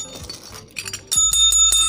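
A crisp notification bell effect chimes in quick metallic rings, sharp and bright, sounding alone after a few softer clicks with no speech.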